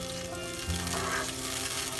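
Orange chicken sauce with orange juice bubbles and sizzles steadily in a pan, a constant close hiss with small pops and no talking.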